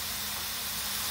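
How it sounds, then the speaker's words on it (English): Pot roast sears in a hot pan with a steady, even sizzle and hiss, close and continuous with no voices over it. "And we're going to let it sizzle like that."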